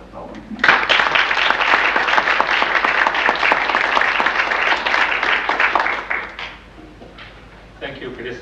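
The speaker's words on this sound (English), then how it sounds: "I hope you'll join me in a warm round of applause and welcome for Dr. Ahmed Abdullah." An audience gives a sustained round of applause welcoming Dr. Ahmed Abdullah to a lecture on Egypt, dense and loud for about six seconds before fading, with a brief spatter of clapping returning at the end.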